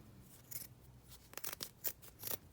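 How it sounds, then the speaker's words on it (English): Scissors snip through a length of paper for a junk journal, several quick crisp cuts in an irregular rhythm, close and fairly quiet with no talking. "Let me just cut this in half"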